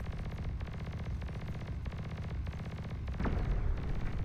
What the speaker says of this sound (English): Pulsar firing off into the distance for some reason.